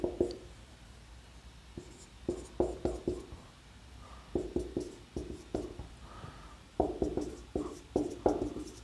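Pen scratching on paper while working a quadratic equation by hand, a close, quiet series of short strokes in irregular bursts with brief pauses between them.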